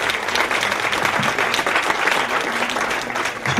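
An Italian event audience applauds in a continuous, loud wash of clapping that holds steady, with a few sharper claps near the end.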